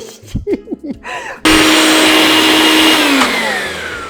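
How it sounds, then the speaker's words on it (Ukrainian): A blender blending pumpkin hummus roars on suddenly after a few short voiced sounds, running loud and steady, its motor pitch shifting slightly as the mix churns. "ви збиваєте в блендері цей хумус до тих пір, поки у вас він не буде кремової консистенції"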